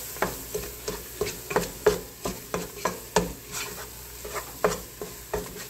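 Flour cooks together with other ingredients in a pan for creamy potato soup. A steady rhythm of scraping spoon strokes, about two per second, rides over a soft background sizzle.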